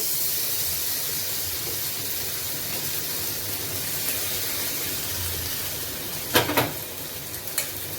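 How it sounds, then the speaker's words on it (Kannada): Pomfret fish fries in a pan with a constant close sizzle and hiss. A few brief clatters near the end suggest the pan or utensil being moved. "fish ಪಾಪ್ಲೆಟ್ fry"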